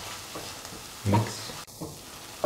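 Rice being stirred into a tomato mixture in a pan, with quiet scraping and a soft sizzle, plus a few brief louder stirring bursts over low background noise.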